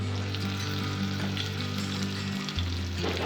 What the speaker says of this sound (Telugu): కరివేపాకు కొద్దిగా ఫ్రై అయిన తర్వాత మ్యారినేట్ చేసుకున్న మసాలా కొద్దిగా వేసుకోవాలి